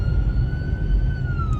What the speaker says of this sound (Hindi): एम्बुलेंस गुजर रही है, अल्लाह खैर करे